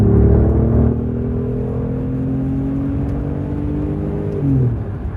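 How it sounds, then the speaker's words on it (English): An Alfa Romeo's exhaust revs hard under throttle, a loud close engine note that rises, settles into a steady drone, then swells again as the pitch shifts near the end, with no talking. "when you're on the throttle, the exhaust sounds awesome"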